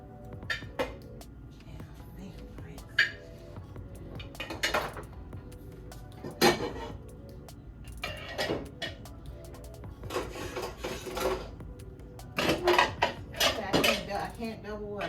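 Pot lids are slotted one at a time into a kitchen cabinet organizer, producing repeated close metallic clinks, scrapes and knocks in irregular bursts over a quiet room.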